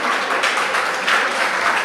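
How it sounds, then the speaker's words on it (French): Applause from an audience at a school quiz competition, loud and dense steady clapping by many hands, swelling slightly in places, with no speech over it. "Faut applaudir votre confrère."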